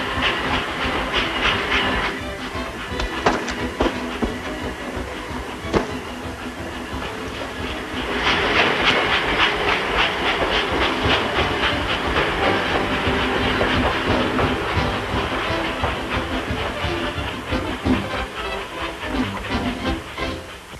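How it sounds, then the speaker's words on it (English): A steam train rumbles past with a steady hiss of steam and rhythmic clatter of wheels, loud and close, swelling midway and continuing throughout. "The train! The train!"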